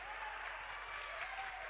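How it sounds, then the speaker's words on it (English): A crowd at a girls' high school basketball game in Forest City lets out a loud, sustained sarcastic cheer that holds steady and dense from start to finish. "the Forest City crowd will give a very large sarcastic cheer"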